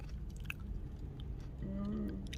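Soft, close chewing of food, with several faint wet bites and crunches over a low steady background, followed by a brief rising tonal sound near the end.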